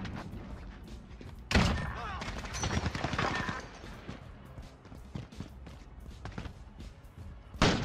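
Sniper rifle shots in the video game Modern Warfare: two sharp, loud reports, one early and one at the very end, over a steady bed of game noise and a person talking.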